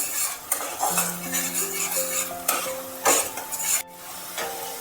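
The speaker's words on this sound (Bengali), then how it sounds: "কালো জিরেটা এবার একটু টমেটোর সাথে নেড়ে নিতে হবে" Black cumin and tomato stirred in a pan, a spoon scraping and clinking against metal in repeated strokes over a soft sizzle, with brief tonal squeaks between strokes.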